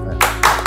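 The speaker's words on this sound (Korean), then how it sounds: "박수!" Three sharp bursts of clapping by a small group follow one another quickly in an indoor interview setting, loud and close, with a low hum underneath.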